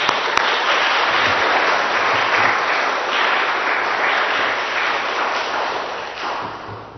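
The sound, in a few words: congregation applause welcoming the pastor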